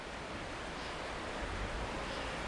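A river flows beside a roadside in Baile Herculane, Romania, producing a steady, fairly loud rushing wash of water that continues evenly throughout, with no talk.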